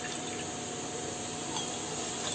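Water poured into a pan while cooking Amritsari chole, a steady, soft, even rush of liquid that runs without a break for a couple of seconds at low volume.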